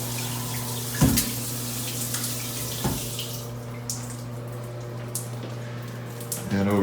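A hotel shower runs in a steady water stream, moderately loud, with a few knocks and clatters and a brief voice breaking through.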